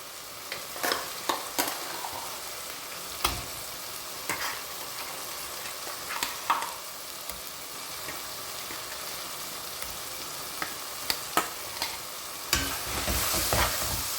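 Mutton frying in a pan and being stirred with freshly ground masala for a mutton gravy, giving a steady close sizzle broken by sharp scraping spoon strokes at irregular intervals, with no talking.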